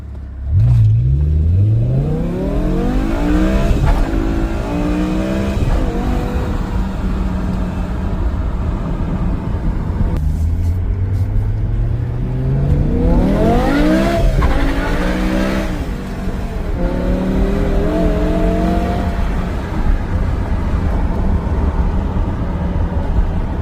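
A BMW E60 M5 with the S85 V10 pulls hard uphill on a road, engine climbing through the revs in two long, loud acceleration runs with shifts between them, close and dominant throughout.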